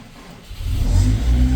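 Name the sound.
Honda car engine cold starting and revving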